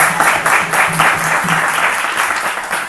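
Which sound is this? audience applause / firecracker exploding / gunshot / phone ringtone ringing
audience applause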